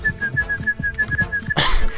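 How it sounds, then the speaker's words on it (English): A character in the video game Kingdom Come: Deliverance whistles a steady, evenly pulsed tune for about a second and a half while footsteps thud underneath, then a burst of broadband noise cuts in. "I like my guy's ability to whistle."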